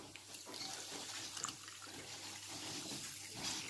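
Lukewarm water, measured out for couscous, pours or runs steadily in a kitchen, a continuous broadband splashing hiss lasting a few seconds with no talk over it.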